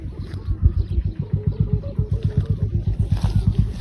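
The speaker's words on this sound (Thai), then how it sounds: "จะลองดึงเล่นลมแรง ฟังเสียงสนูครับ" A Thai Chula kite from Korat, 115 cm with a white and blue pattern, carries a hummer that buzzes in strong wind, a loud rapid pulsing drone throbbing in steady regular beats, close and continuous with wind noise.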